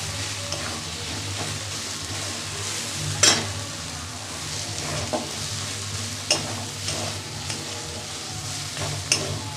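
Red amaranth greens with green chili and garlic stir-fry almost dry in a pan, with a steady sizzle broken by periodic scraping stirs of a spatula.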